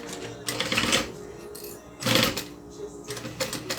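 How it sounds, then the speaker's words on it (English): Domestic sewing machine stitching a Denver backpack, running in three short bursts of rapid mechanical chatter with pauses between, near and moderately loud, with a quiet voice speaking in the gaps. "now I'm going to sew it down"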